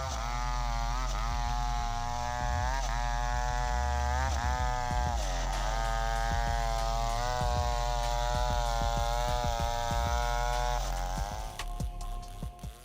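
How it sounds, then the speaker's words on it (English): A Style Hybrid F chainsaw bar saws through a giant block of wood, its engine droning loudly and steadily with harmonic whine, pitch dipping and rising as the chain bites, then easing off near the end. "Once again confirming the power of the Style Hybrid F's chainsaw bar, a game changer in the world of wood carving"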